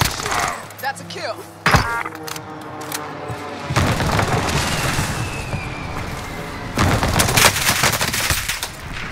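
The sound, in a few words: gunfire shooting at a UAV in a video game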